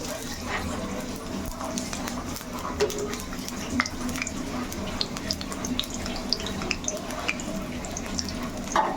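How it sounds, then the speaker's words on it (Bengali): Sliced onions sizzling in hot oil in a home kitchen pan, a continuous crackling hiss with scattered pops and occasional utensil scrapes, close and steady throughout, with faint voices in the background. "দিয়ে দিলাম তেল, পেঁয়াজ যা ছিল সব দিয়ে দিব"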